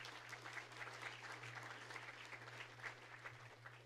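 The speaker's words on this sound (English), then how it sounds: "Yeah, let's give them a round of applause." A round of applause from a conference audience in Chicago, greeting the Chicago Manufacturing Center team: soft, distant, continuous clapping from a sizable crowd with a low electrical hum underneath and no voices.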